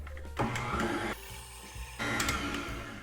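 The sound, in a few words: KitchenAid mixer creaming butter and sugar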